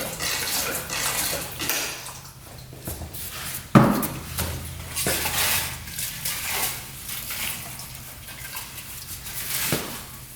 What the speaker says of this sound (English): Gonna rinse it out with some